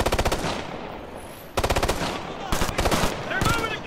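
Rapid bursts of machine gun fire from a mounted MG gunner in the Ghost Recon: Future Soldier shooter, loud and close, coming in several separate volleys with brief pauses between them and faint shouting mixed in.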